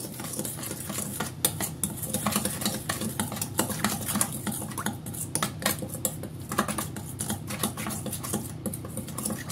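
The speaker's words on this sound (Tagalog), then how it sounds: "Tapos, haluin natin." Chicken is mixed with dark and light sauce and cornstarch in a bowl, producing a continuous wet squelching and clinking of a utensil against the dish, close and busy, with no talking.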